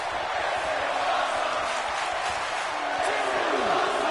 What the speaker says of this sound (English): And this crowd loving this fight between these two